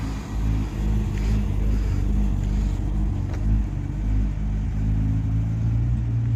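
A Holden HR car towing a trailer drives past at a car meet, giving a steady, loud, low engine rumble that swells slightly as it goes by, with no talk.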